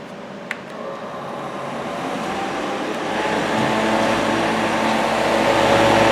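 A repaired electric fan's motor whirs steadily and close, a continuous broadband hum that builds slightly in loudness after a brief click at the start.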